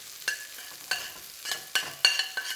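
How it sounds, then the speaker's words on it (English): Garlic and ginger sizzle in oil in a wok, softly and close. A spatula pushes them around in several distinct scraping strokes spread irregularly across the frying, with no talking. "A little bit more oil for your garlic and your ginger."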